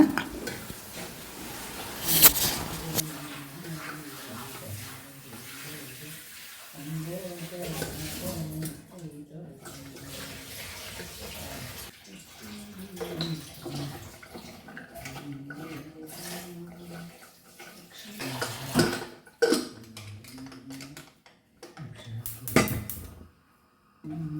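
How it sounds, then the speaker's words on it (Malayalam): Washed koorka, Chinese potato, goes into a pot on a stove: scattered clinks and clatters of a metal pot, lid and utensils with some water sounds, heard under ongoing talk from people nearby. "കൂർക്ക നന്നാക്കിയത് കഴുകി ഇത് അടപ്പത്ത് വയ്ക്കുകയാണ്"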